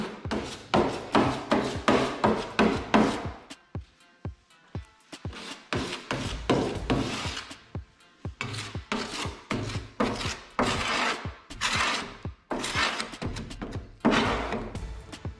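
Repeated scraping and smearing strokes of a spreader working fibreglass body filler across a car panel, steady rhythmic passes with brief pauses, close by.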